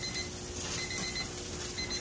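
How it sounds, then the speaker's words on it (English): Cooking timer alarm going off beside an outdoor grill, a steady repeating electronic beep held at a constant level throughout, fairly close. "All right, there's the timer."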